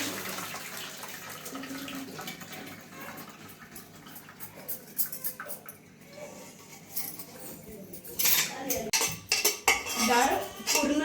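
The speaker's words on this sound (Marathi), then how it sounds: "आता आपण त्याच्यातलं पाणी काढणार आहोत आणि डाळ आणि पाणी" Water is drained from cooked lentils in a metal pot, with clinks and scrapes of cookware followed by a louder rush of pouring and splashing water near the end.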